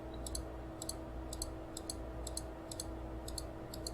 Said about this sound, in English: Holding shift and double clicking